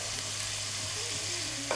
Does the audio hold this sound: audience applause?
no